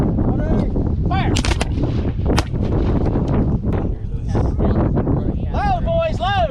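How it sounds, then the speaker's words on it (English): Civil War reenactment company firing musket volleys outdoors in wind, with loud sharp blasts and booming reports over steady wind noise, shouted commands from men between shots. "Company, fire by company."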